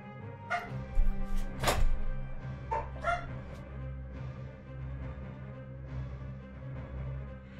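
Dogs bark sharply in the 1998 classic Resident Evil 2 video game, a few loud close barks and yelps bunched in the first few seconds, then a low droning game soundtrack carries on alone.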